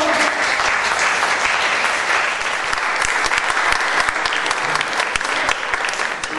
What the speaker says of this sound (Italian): Gianluca Noti della scuola di Scaldarini, un applauso!